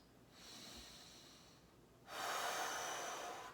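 Slow, audible breaths sound close during a held stretch in a mobility routine: one softer inhale, then a louder, longer rushing exhale, with no talk.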